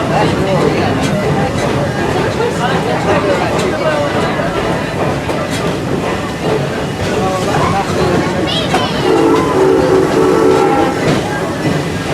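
A Busch Gardens train ride in Florida rumbles along with clattering wheels and a steady mechanical hum, a brief horn-like tone near the end, with crowd noise around.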